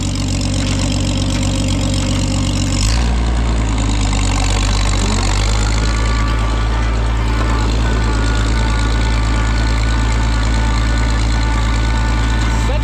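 A tractor engine runs steadily at a loud, close idle on a farm during hay season, its low rumble shifting pitch slightly after a few seconds and then holding constant.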